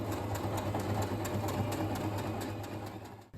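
A sewing machine stitches a kimono sleeve seam with a steady rapid mechanical chatter and motor hum, close and continuous, slowing and stopping at the end.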